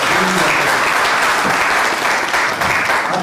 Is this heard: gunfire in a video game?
no